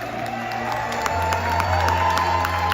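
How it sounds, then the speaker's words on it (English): An audience aboard the Carnival Celebration cruise ship cheers and hollers during the captain's welcome, a steady, dense roar of voices and whoops that holds at an even level throughout. "We'll cheer and holler."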